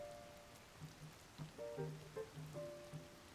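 Steady rain falling in The Legend of Zelda: Tears of the Kingdom during a blood moon, a faint soft patter with scattered droplet ticks and a few brief low in-game tones rising over it.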